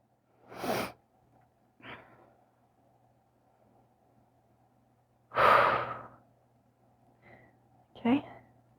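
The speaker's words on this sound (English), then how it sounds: "Breathing." Deep breaths during a vinyasa yoga flow: several long, audible inhales and exhales, close and clear. Quiet pauses between them, with a faint steady hum underneath.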